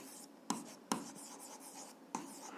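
A pen writes on paper during an algebra lesson, with quiet scratching broken by a few sharp taps of the pen against the page, close and faint with no talking.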